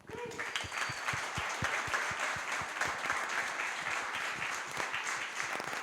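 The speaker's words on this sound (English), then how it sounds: "Another round of applause for everyone" An audience claps together after a panel at a crypto community event in Athens, dense applause that starts abruptly and holds steady for several seconds with faint voices mixed in.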